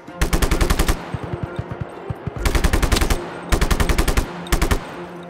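Automatic gunfire in the Just Cause 3 video game: four rapid bursts of loud, evenly spaced shots, separated by short pauses with faint scattered pops, no voices.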